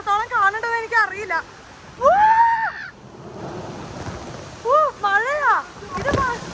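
Water pours down like heavy rain at the Aquaventure waterpark in Dubai, a steady wash of splashing beneath excited voices that talk and exclaim over it throughout.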